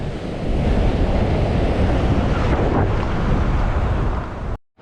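Wild sea waves surge along the St Bees coast in a loud, continuous roar of surf mixed with gusting wind, which cuts off abruptly near the end.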